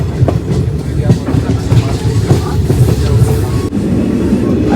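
A train runs on rails through snowy Kashmir, heard from inside a carriage as a loud, continuous rumble with repeated clicks and knocks of the wheels over the joints. Faint voices are heard now and then.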